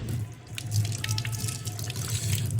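Hands washed under a running tap with very cold water in Srinagar, Kashmir, a steady close splashing stream with drips throughout, no voices.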